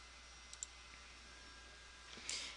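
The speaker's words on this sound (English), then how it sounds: "go ahead and click on OK." Two quick, faint mouse clicks on a computer in a quiet room over low background hiss, followed by a soft rustle near the end.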